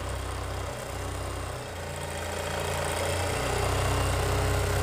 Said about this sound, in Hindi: एक पैर के मार्जन से दोस्तों एक्स्ट्रा सिलाई लगा देंगे